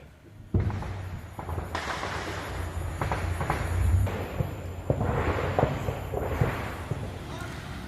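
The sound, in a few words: artillery fire near a village on the border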